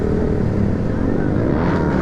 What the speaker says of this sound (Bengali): এই মোটা মালটা ভাই হুইলি মেরে দিল।